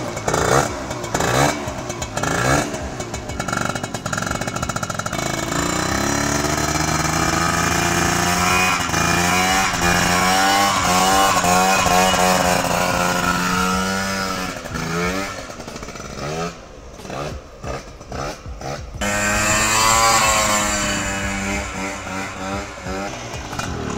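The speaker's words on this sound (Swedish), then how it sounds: "Nu har vi provkört mopeden lite grann." An air-cooled moped engine on a test ride after a cylinder swap buzzes loud and steady for the whole stretch, its pitch climbing and falling with the throttle, briefly easing and sputtering near the middle before revving up again.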